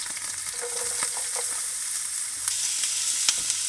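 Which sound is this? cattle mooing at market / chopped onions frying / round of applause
chopped onions frying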